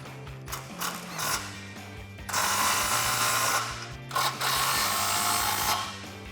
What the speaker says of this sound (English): Grab your 15mm deep socket and tighten them down.